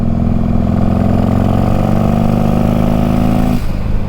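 Turbocharged Harley-Davidson Road King motorcycle engine revving hard up close, a loud steady roar with a rising whine for about three and a half seconds before the throttle drops off abruptly near the end.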